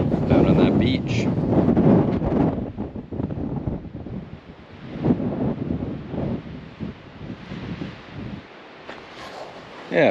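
Strong gusts of wind buffet the microphone at a river overlook above the Colorado River, a loud rumbling roar that swells and eases over several seconds before dropping off near the end.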